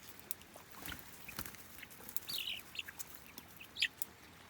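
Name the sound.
chicks clucking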